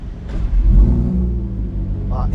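Lamborghini Huracán EVO Spyder V10 engine restarting after an idling stop on a Tokyo street, a close, low rumbling surge with a brief rising rev under a voice speaking.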